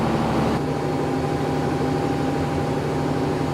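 A ship's engine in the engine room runs to power the onboard electrical systems. It gives a loud, steady, low mechanical hum with a constant tonal whine and no break.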